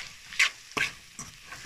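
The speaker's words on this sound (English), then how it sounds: "And so just going to keep stirring." Onions and flour being stirred in a pot for French onion soup, a few short scraping strokes of a utensil over a low, soft sizzle, close and isolated.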